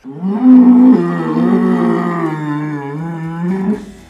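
A pedigree beef cattle animal at a breeding centre gives one long, loud, close moo lasting several seconds, a deep sustained bellow that slowly fades out, with no talking over it.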